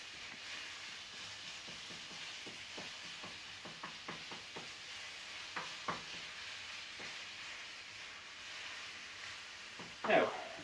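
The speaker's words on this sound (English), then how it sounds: "Now, as that's frying off," Minced topping for Tantan Men ramen frying in a pan, a steady close sizzle with occasional crackles and stirring scrapes, with faint talk.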